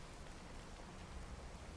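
Heavy rain in the video game Card Survival, a dense, steady hiss of downpour with no breaks, faint and heard alone without talk.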